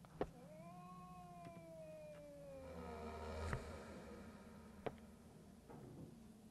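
A cat-like creature in the Psychopath Hunt Revamp horror game lets out a long, drawn-out yowling meow that bends downward, followed by a few sharp clicks and thuds, close and clear with no talk.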